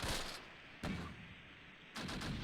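Distant mortar fire in the Close Combat: Last Stand Arnhem war game, at Groesbeek Heights. Muffled low booms land at intervals, faint and far off.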